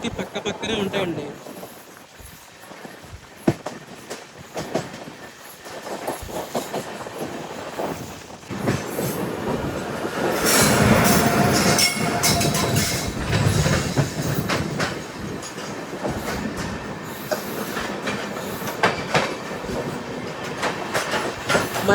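A Tirupati Express LHB passenger train rolls into Anaparthi railway station with steady clickety-clack wheel rhythm that grows louder midway, heard from on board with a person talking over it.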